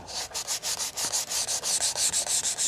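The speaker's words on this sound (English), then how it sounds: "And now I will sand it down on one side so that we can cement the pieces together." Leather edge being sanded for a quiver, a steady run of quick back-and-forth rasping strokes, close and even, with no talk.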